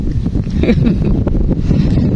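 Wind blowing outdoors during airgun fishing, a steady low rumbling buffet on the microphone, with a voice faintly audible underneath.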